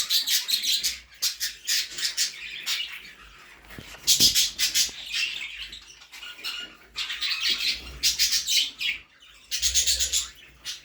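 Budgerigars chirp and twitter in rapid bursts in a pet shop, many voices overlapping busily, with brief pauses between flurries.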